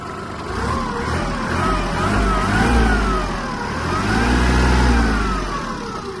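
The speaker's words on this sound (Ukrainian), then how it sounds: "Можемо дати газу." A Kubota KL-300 Japanese mini tractor engine, freshly serviced with new oil and filters, revs up and down in two long swells, its throttle rising and falling close by with a steady mechanical drone and no talk.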